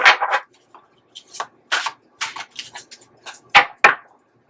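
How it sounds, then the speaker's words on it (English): Tarot cards being given a vigorous shuffle, a series of short crisp riffling and slapping bursts in irregular rhythm, close and fairly loud against a quiet room. "Let's give these guys a real good shuffle."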